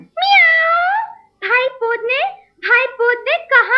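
A cat meowing, several loud, close, drawn-out and then shorter meows in quick succession; the voice seems to be a human imitating the cat in a children's story recording.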